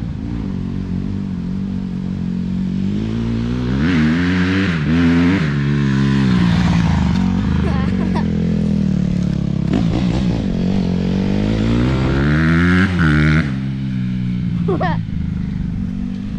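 A Honda CRF150 dirt bike engine revs repeatedly, rising and falling in pitch, loud and near, with voices talking over it at times.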